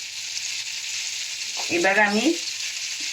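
Bay leaf, small cardamom pods and cinnamon sizzle in a little hot oil, a steady crackling hiss running throughout, briefly brightening midway as a voice speaks over it.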